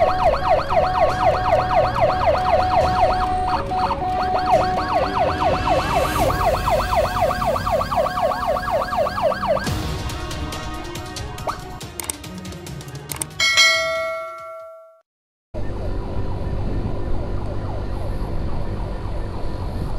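An ambulance siren wails steadily and loudly at close range during an escort through Indonesian streets. It cycles through a rapid electronic yelp, then briefly cuts out and resumes with traffic rumble underneath.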